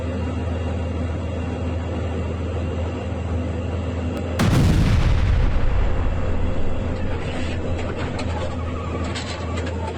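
A single heavy boom of tank gunfire from Ukraine war footage erupts midway, loud and close, then rumbles and decays over a steady background hum.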